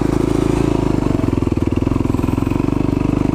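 A KTM enduro motorcycle engine runs loud and close on a night trail ride, its fast, steady firing pulse holding a constant throaty drone throughout with no talk over it.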